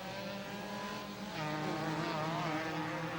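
A Renault Clio race car drones along a circuit at a Copa Clio 2007 round in Londrina, Paraná, its engine a steady, fairly loud buzzing hum that swells slightly midway with no talk over it.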